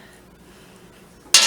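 A single sharp metallic clank as something drops into a cooking pot in a home kitchen while maple beans are being prepared for canning, loud and sudden after near silence.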